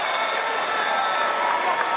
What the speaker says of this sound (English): The biggest cheer of the day from the Down fans